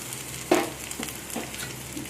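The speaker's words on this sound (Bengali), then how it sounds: "এখন আদা রসুনের পেস্টটা এর মধ্যে আমি দিয়ে দেব।" Ginger-garlic paste dropped into a pan of onions fried reddish, giving a sudden sizzle burst followed by steady frying crackle and faint stirring scrapes, close and alone.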